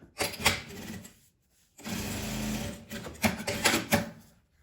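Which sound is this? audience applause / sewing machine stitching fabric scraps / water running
sewing machine stitching fabric scraps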